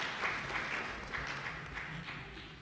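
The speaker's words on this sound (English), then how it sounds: "So please clap for Karamaji Andrew as he joins us." Applause from the audience at a national civil society convention: a soft, fairly distant patter of many hands clapping that carries on steadily and fades slightly.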